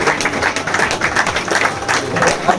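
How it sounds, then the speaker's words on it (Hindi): Loud, dense clapping from a crowd at a welcome ceremony in Sadar Bazaar, Delhi, a rapid, continuous patter close by. "जोरदार तालियों के साथ"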